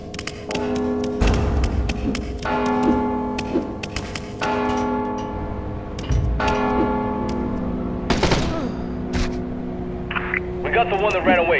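Tolling bell rings repeatedly in the Mark of the Ninja video game, its long ringing tones recurring at intervals over game music and ambience, with in-game voices speaking.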